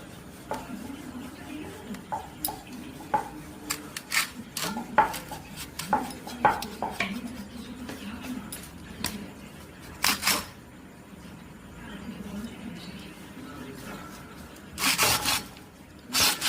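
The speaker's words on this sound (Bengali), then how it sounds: "এই যে বাটি, এটা দিয়ে কাটবো।" A bowl's rim pressing down and cutting through filled suji khakra dough, giving a run of close, short taps and scrapes against a board and utensils, with a few louder clatters near the end.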